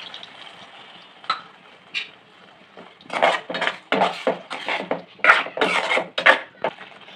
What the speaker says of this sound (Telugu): ఈ పచ్చిపాలు ఇప్పుడు పోసుకుంటున్నాను